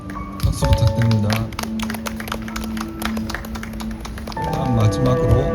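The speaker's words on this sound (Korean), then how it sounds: "박수 부탁드립니다." At an outdoor anti-war art performance in Busan, an audience claps steadily through most of the stretch, with scattered taps, and voices are heard over the applause.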